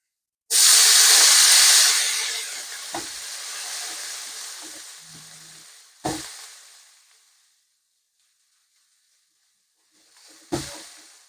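Loud sizzling hiss bursts up as food hits a hot pan, then slowly fades, with a few clanks and a second brief sizzle near the end.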